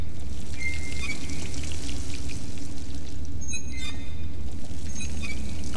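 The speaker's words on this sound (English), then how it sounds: "I'm drinking that water from a distance." Steady, continuous pouring and trickling water in the video game Dishonored, an even wash of liquid noise with faint higher clinks and tones.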